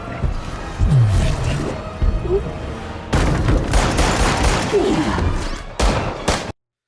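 Pistol shots ring out in a loud action movie battle scene, a few sharp cracks and thuds in quick bursts amid booming effects, with a voice speaking over part of it.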